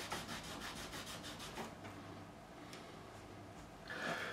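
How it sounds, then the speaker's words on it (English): Paste is rubbed by hand into the fingerboard of a 2005 Fender Standard Stratocaster during lacquer removal and refret work, giving steady soft rhythmic rubbing strokes up close, with a brief brighter scrubbing burst near the end and no talk. "And all I'm doing is rubbing in the paste."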